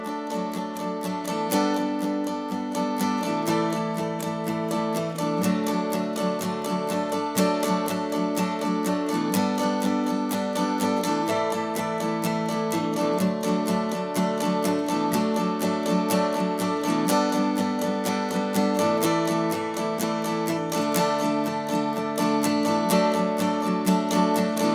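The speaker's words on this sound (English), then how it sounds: "we can just kind of get into this 16th note strumming" An acoustic guitar is strummed close and steady in a quick, even 16th-note pattern, chords ringing continuously across a song-style progression, with no voices.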